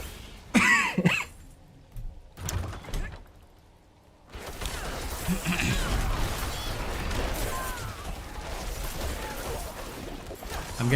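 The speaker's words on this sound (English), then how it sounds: "I do apologize for all the coughing" A man coughs and clears his throat a few times in sharp bursts, followed by a quiet gap and then a steady low background hum of game sound.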